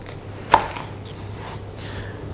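A single sharp chop as a knife cuts a watermelon in half, followed by quiet shuffling in a still room.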